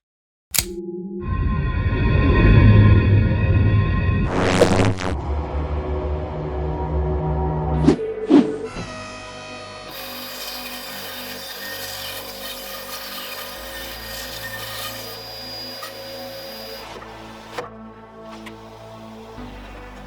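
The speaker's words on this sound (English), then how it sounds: "the unwanted timber will be removed with the bandsaw" A bandsaw cuts away unwanted timber from a block in a workshop, with a rough cutting burst early on, followed by the motor whirring and winding down amid scattered clunks.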